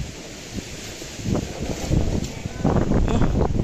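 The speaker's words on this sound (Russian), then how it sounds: "Видите, какой ураганище." Strong, hurricane-like wind buffets through a park in gusty bursts, with heavy rumbling blasts against the microphone that grow louder toward the end.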